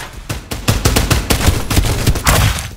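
Rapid gunfire in the battle royale game Farlight 84, a dense run of sharp loud shots in quick succession, nearly continuous over a few seconds with a brief pause before the final burst.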